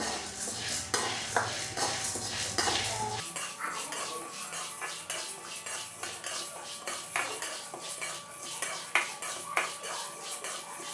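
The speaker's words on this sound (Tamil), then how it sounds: "கடலைப்பருப்பு போட்டு விடாமல் வறுக்கணும்." Chana dal is dry-roasted in a pan while a metal spoon stirs it, producing frequent scraping and clinking strokes against the pan at a close, moderate level, with no sizzle.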